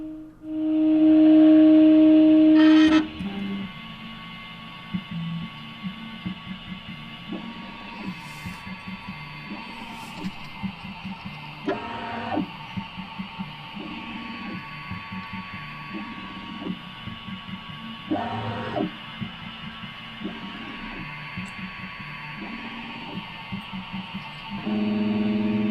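A Prusa 3D printer runs its 9-point bed calibration: a steady electrical hum with a tonal whine, broken by short, regular motor whirs and soft knocks as the head moves between points, with one louder burst near the start.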